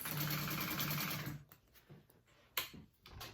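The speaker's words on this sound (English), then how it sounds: "I'm going to sew that on, or sew that up. I'm going to do it from this way though. Again with a 3/8." A sewing machine runs a fast, steady stitching burst along a 3/8-inch seam on a tote bag, then stops and leaves a few light clicks and handling noises.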